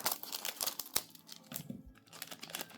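Scissors snip open a foil Duelist Advance trading card booster pack, giving crisp crinkling and tearing noises in short bursts up close, with no talking.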